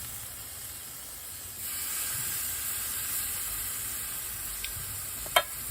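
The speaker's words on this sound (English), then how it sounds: "Do you hear that sizzle? That's what you want to hear." Steady sizzling hiss of steak cooking on a hot barbecue grill, fairly quiet and continuous, with a couple of small pops near the end.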